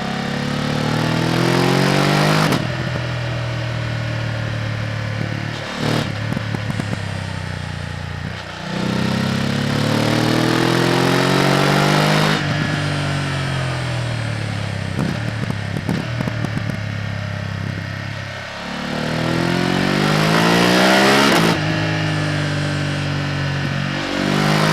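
A BMW F900 GS motorcycle engine revs and climbs through gears on winding roads, pitch rising in repeated sweeps, dropping sharply at each shift or lift-off, loud and close throughout with wind noise underneath.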